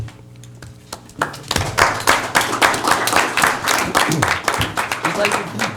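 A crowd at a town gathering applauds their chief, congratulated for winning an award: a steady patter of many hands clapping, fairly close, with voices talking over it.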